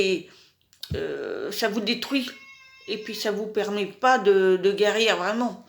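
A pet cat meows in a home while someone talks over it. The brief meows blend into her speech.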